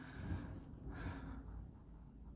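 Writing on a board during an accounting lesson on depreciation, a faint scratchy stroking sound in short bursts, close by and without talk, ending in a brief knock.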